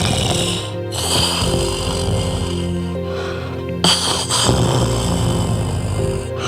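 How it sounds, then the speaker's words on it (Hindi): Deep, rasping monster snoring rumbles loudly and steadily from a cave, layered under a thick droning horror-story ambience with a couple of brief breaks. "गुफा के अंदर एक भयानक राक्षस लेटा हुआ सो रहा था और भयंकर आवाज वाले खर्राटे ले रहा था।"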